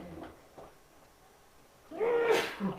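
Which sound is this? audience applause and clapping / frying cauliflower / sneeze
sneeze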